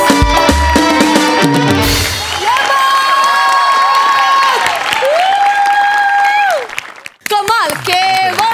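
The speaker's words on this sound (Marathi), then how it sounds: "जोरदार टाळ्या." A studio audience at the Marathi comedy show Maharashtrachi Hasya Jatra claps and cheers loudly at the start, and the noise then continues beneath music and voices as the crowd settles.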